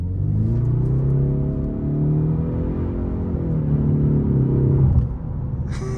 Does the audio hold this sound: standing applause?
no